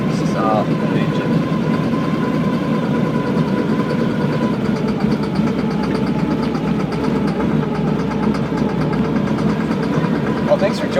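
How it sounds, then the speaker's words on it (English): The 426 Hemi V8 in a 1972 Dodge Challenger keeps a loud, steady, rumbling run from start to finish with no pauses. Speech is mixed in with the engine. "Solid engine."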